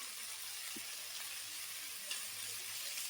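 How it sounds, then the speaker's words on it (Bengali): Potatoes with salt, turmeric, cumin and coriander powder fry in a pan, making a faint, steady sizzle that hisses evenly throughout with barely any other sound. "সব কিছু দিয়ে আলুগুলো ভালো করে ভেজে নেব মশলার সঙ্গে"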